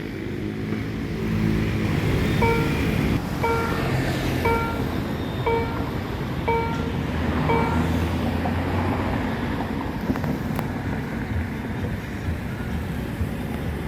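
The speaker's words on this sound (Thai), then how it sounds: "ก็มีรถไฟผ่านมาอีกหนึ่งขบวนนะ เป็นฝั่ง มุ่งหน้าไปทางบางซื่อนะครับผม" A train heading toward Bang Sue passes the Ranong 1 Road railroad crossing: a steady, loud rumble lasts throughout, with a series of short, evenly spaced bell-like tones ringing over it through the first half. No voices.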